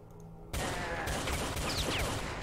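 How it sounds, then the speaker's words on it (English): Loud, dense gunfire in Brutal Doom 64 erupts suddenly and keeps going as a continuous rattling barrage aimed at the player, close and overwhelming with no talk. "Who was shooting at me?"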